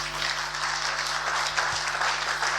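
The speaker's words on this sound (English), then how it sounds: "Give him a warm applause." Audience applause welcoming the chair of an award ceremony at an annual general meeting in Bonn, a steady, even wash of clapping from a sizable hall, moderately loud with a faint low hum beneath.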